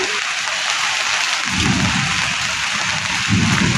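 Heavy rain pours onto a small shop's roofless structure, making a loud steady hiss with deep rumbling swells at intervals.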